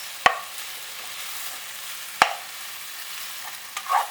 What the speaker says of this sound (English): Just saute it for around 2 to 3 minutes.